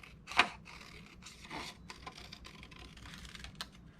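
Scissors cut paper into small curved leaf shapes for a frog collage: quiet, close, scattered snips and soft scraping strokes in an irregular rhythm, with one sharper cut near the start.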